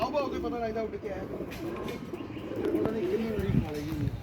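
Long-flying pigeons kept in an indoor coop give low, rolling coos nearby, heard beneath someone talking throughout.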